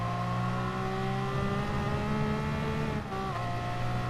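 Race car from Gran Turismo on the Dragon Trail Gardens circuit, N300 class, braking hard with rapid downshifts; loud sustained engine whine drops in pitch, briefly dips around three seconds, then resumes, no talk.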